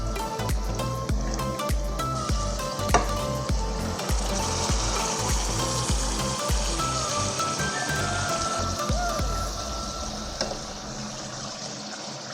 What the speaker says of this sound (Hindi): चिकन हमारा अच्छे से भुन चुका है। अब हम इसमें डालेंगे दाल माश।